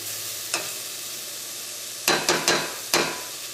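Tomato masala with salt in a pan, stirred with a spoon in a few distinct scraping strokes, one lone stroke and then a quick cluster of three with a last one after, over a faint steady sizzle.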